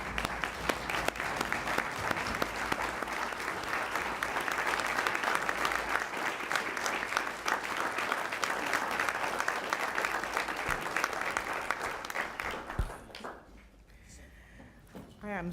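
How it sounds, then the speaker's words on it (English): Audience applause rises for a woman receiving a certificate at a presentation ceremony: steady, dense clapping from a standing crowd for about thirteen seconds, then it stops abruptly and leaves a quiet room. "Can everyone please stand up and give her a round of applause?"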